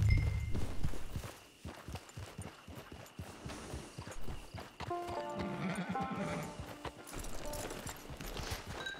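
In the video game Red Dead Online, a horse's hooves clip-clop in an uneven walking rhythm and it gives a brief whinny, mixed with game ambience and occasional speech.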